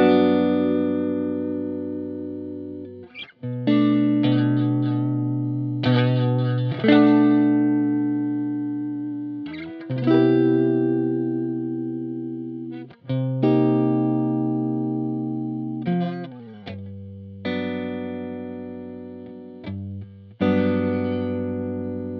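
Guitar played through a PastFX Kurt's Cologne Chorus pedal with the depth switch down: a series of strummed chords, each ringing out and decaying before the next, shimmering with chorus and no talking.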